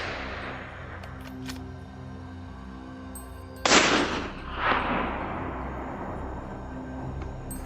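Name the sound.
rifle shot at a wild boar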